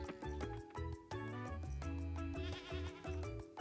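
Sheep and goats on a farm in the game Coral Island bleat in a quick string of short, bouncy animal calls that repeat rhythmically over a few seconds, close and clear.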